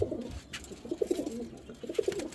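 Several racing pigeons coo close by in a loft in soft, overlapping throaty rumbles, repeating in bursts with brief quiet gaps between.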